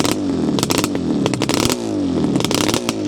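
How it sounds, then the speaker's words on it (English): Revving hard up close, a restored Yamaha RD350LC two-stroke twin with aftermarket expansion chambers rises and falls in pitch over several short blips, with crackling and popping from the pipes as each rev drops. "I had a really nice crackle from those aftermarket expansion chambers"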